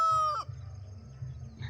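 A rooster crows loudly and close at first, the call breaking off quickly, then a low farmyard hum carries on with faint background noise.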